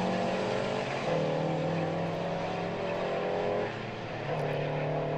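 Race cars on a racing circuit roar along the back straight, a steady droning engine note with slight shifts in pitch as they run on at mid distance, without any talk.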